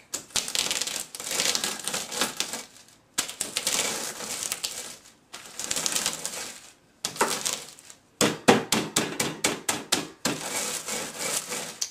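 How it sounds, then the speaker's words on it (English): Cocoa beans being crushed inside a plastic bag with a rolling pin: repeated loud bursts of crunching and crackling, each a second or two long, separated by short pauses, with a quicker run of sharp hits near the end. "Get a rolling pin or other heavy object, anything will work, a book or a pot or a pan, and then you want to thoroughly crush all of the beans inside the plastic bag."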